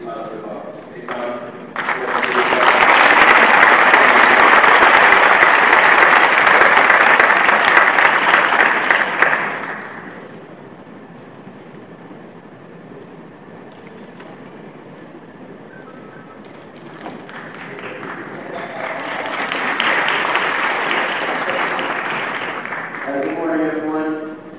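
An audience in the United Nations General Assembly hall bursts into loud, sustained applause for several seconds, fades, then claps again more softly, with someone speaking briefly at the start and end.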